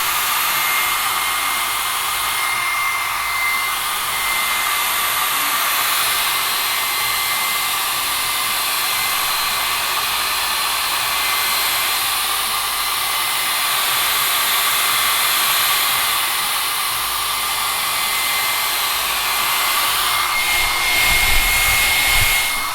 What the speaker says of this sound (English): before you shut your heat gun off or your hair dryer or whatever, it's got a cold setting